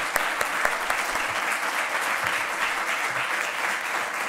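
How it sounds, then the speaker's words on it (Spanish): Applause from a conference audience for four panelists, a dense steady clatter of many hands clapping throughout, with no talk over it. "Me gustaría pedirles nuevamente un aplauso para los cuatro."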